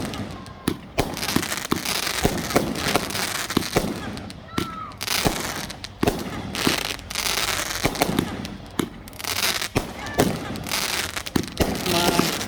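New Year's Eve 2022 fireworks in Thibodaux go off in dense, continuous volleys of loud bangs and crackles, with voices of people nearby.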